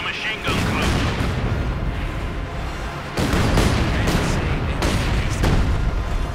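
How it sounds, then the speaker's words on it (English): Field gun bombardment in the World War II strategy game Company of Heroes 2, loud continuous rumbling booms and blasts stacked densely, with a fresh surge of impacts partway through and talk over the top. "bombarding the MG inside the house there with the field gun"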